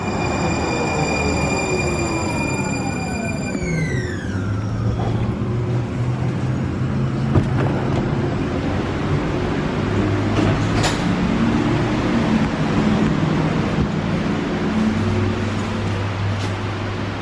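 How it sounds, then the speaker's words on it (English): A Portland light rail train pulls away with a falling electric whine, then settles into a steady rumble and rattle of wheels on track, close and continuous. "Train departing. Please hold on."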